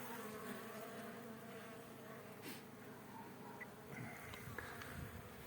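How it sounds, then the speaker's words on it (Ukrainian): Honeybees fly around their hive on a cold winter day, a steady layered buzzing of many insects close by, with no talking. "Хто не бачив давно пчолок, як вони літають, то можете подивитися."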